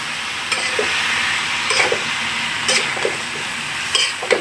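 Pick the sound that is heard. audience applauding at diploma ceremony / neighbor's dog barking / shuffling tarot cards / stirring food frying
stirring food frying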